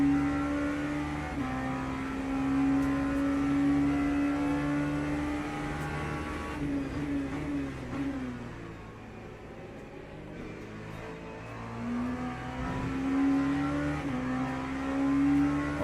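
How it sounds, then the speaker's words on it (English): A Corvette race car engine in Le Mans Ultimate drones steadily with a strong harmonic tone, rising through the revs, dipping mid-clip and then climbing again, loud and continuous with no talking. "Oh, that's a Corvette actually."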